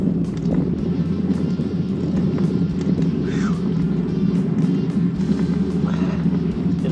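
Headwind buffeting a rider on a hot bike ride in the Southern Oregon mountains, a continuous loud low rumble and roar across the mic, steady throughout with no voices.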